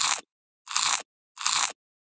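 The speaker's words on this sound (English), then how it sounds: "I munched all the way down the hall" Crackers crunch in three loud, close bites, each a short burst of crisp crackling separated by silence.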